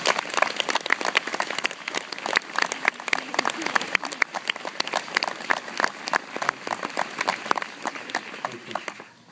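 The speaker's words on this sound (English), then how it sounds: "Please join me in a big round of applause to the class of" A large audience at a graduation ceremony applauds the class of 2014, dense and continuous clapping filling the hall from start to finish before it trails off at the end.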